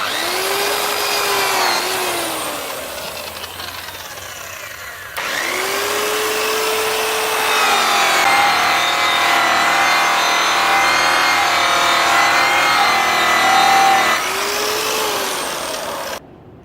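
A buffing wheel polishes aluminum toward a mirror finish, giving a loud, steady motor whine with rubbing friction and shifting tones, briefly dipping near two and five seconds before running on continuously.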